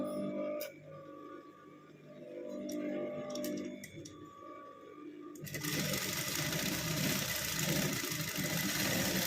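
A sewing machine on a stitching test, heard first as faint ticking and whirring and then as a loud, steady running hum that starts partway through and continues to the end, with no talk.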